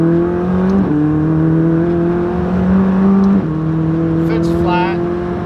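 A McLaren 600LT engine pulls hard at full throttle, its loud, close roar climbing steadily in pitch and dropping briefly at two quick upshifts, with a short voice near the end.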